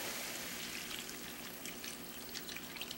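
Beef broth pours from a container into a cooking pan for beef stroganoff, a faint, steady trickling and splashing stream that runs without pause.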